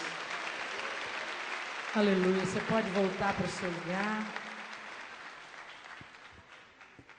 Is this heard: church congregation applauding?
yes